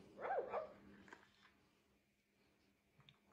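A puppy gives a couple of short, high yips close by, then the scene goes quiet with faint background rustling.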